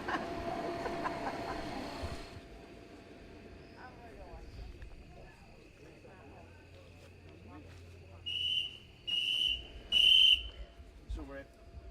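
Sharp whistle blasts at a backyard ultra race, three short bursts in quick succession near the end after a stretch of quiet outdoor ambience, with faint voices and crowd murmur early on.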